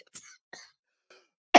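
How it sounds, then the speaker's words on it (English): A person laughing so hard they cough, letting out a few short, sharp coughs and breathy gasps spaced apart, close and fairly loud, ending with one abrupt burst. "That's why I'm coughing"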